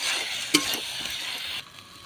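Potatoes with masala sizzle in a hot pan while being stirred, a steady close hiss of frying with a quick scrape of the spoon, the sizzle dropping off sharply near the end.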